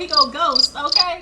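A voice imitates a cricket's chirp in three quick rhythmic bursts, close and clear, with someone speaking briefly around it.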